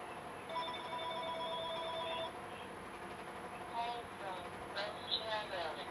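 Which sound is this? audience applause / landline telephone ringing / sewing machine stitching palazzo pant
landline telephone ringing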